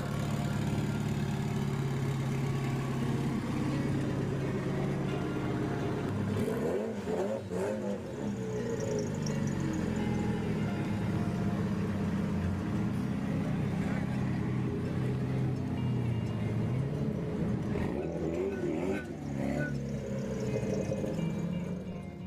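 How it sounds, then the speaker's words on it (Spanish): Chevrolet-sourced V8 engine in a Mosler Consulier sports car, running with a steady, loud low rumble and a brief rev swell midway, continuous and close throughout. "La mecánica suena así."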